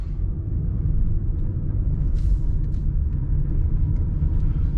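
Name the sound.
2022 Subaru Forester engine under throttle, spinning in a tight circle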